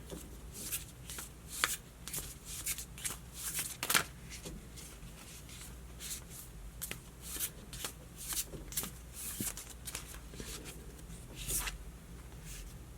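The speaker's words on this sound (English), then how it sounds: "let's pull you guys some more cards" Tarot cards are shuffled and pulled from the deck, with a steady run of crisp riffling and flicking bursts, close and fairly quiet, with no talk over them.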